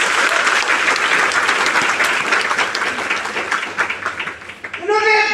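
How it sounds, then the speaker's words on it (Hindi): An audience at a motivational talk in Surat bursts into loud, sustained clapping, a dense steady applause that tapers off as a voice begins at the end. "तो अच्छी वाली ताली भी तो होनी चाहिए।"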